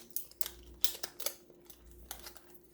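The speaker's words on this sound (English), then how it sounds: "you just take the scissors and you open up the nail strip here" A few quiet, crisp snips and clicks of scissors cutting open a thin plastic packet of nail polish strips up close, with light rustling in between.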